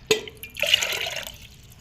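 Water poured into a cooking pot for pearl millet rice, a brief splash and then a steady pouring gurgle lasting about a second, nearby and with no talking.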